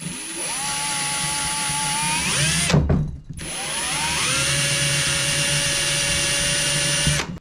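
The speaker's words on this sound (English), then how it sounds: "a hole saw that's going to fit inside it to drill it out" A power drill with a hole saw whines steadily under load, stops briefly, then spins up again for a second long, even run.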